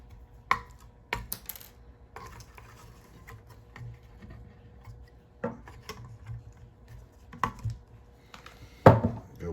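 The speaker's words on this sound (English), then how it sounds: "So now I'm just going to go ahead and snip off the excess." Wire cutters snipping off excess wire during a cheap repair of an Aquarite salt pool chlorine cell, heard as a few sharp, close clicks and snips among quiet handling taps.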